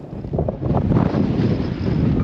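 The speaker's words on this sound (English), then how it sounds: "It's a little bit windy over here," Strong wind gusts roar across the microphone by the water at a harbour where boats are launched, a loud continuous buffeting rumble with no speech.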